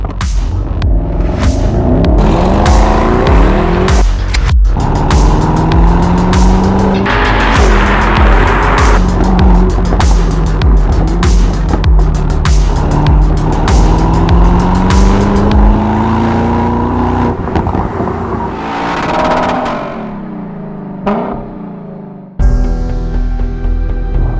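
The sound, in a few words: 2023 Mercedes-AMG SL 63 car driving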